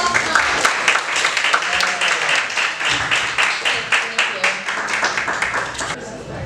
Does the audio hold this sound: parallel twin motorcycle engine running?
no